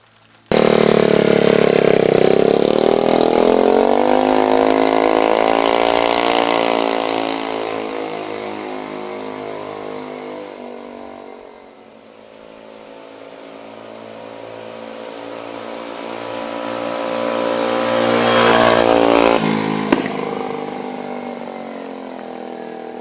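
A stretched and slammed custom moped runs close to the mic, its small engine revving up loudly, easing down to a lower idle midway, then climbing to another sharp rev before settling, with no talk over it.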